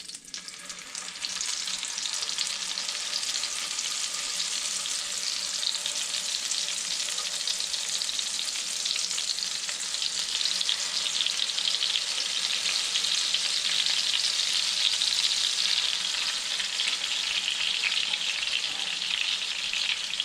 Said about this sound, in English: I'm going to go ahead and put my speckled trout fillets in.